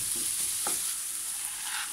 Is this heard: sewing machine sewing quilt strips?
no